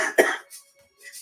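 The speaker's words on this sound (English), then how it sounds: "It was coughing in my face." One sharp, close cough followed by a short throat-clearing rasp, loud and abrupt against a quiet room.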